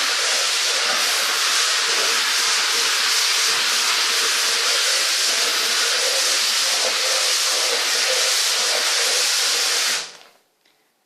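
A Polti Vaporetto Eco Pro 3000 steam cleaner blasts a steady, loud, broadband hiss of steam for about ten seconds, then cuts off abruptly into near silence.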